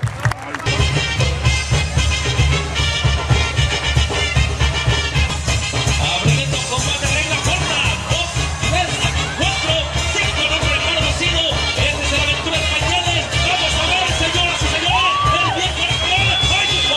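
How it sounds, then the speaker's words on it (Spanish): A crowd at the Rey de Reyes tournament in San José Tejalpa cheers, whoops and applauds continuously, loud and dense, with voices shouting through the din. "Venga, un aplauso para Diosito, que nos permite estar vivos."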